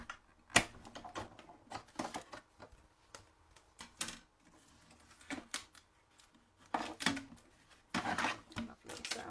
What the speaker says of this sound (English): we're cutting our intricate black circle and we're cutting our white scallop circle